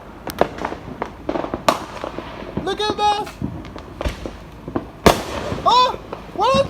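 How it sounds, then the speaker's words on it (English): Fourth of July fireworks burst in sharp repeated bangs and crackles, several loud close explosions spread through, with excited voices talking and exclaiming between them. "I see them. I see them. The fireworks. The fireworks."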